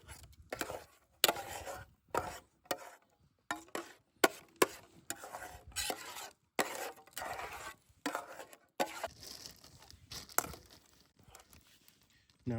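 Ova Easy egg crystals being stirred and scraped in a pot over a campfire, a series of short, irregular scraping and clinking bursts with brief pauses between them, close and fairly quiet.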